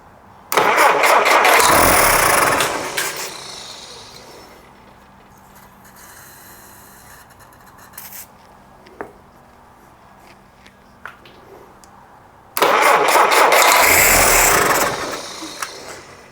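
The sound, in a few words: Jeep CJ5 engine starting and running on starting fluid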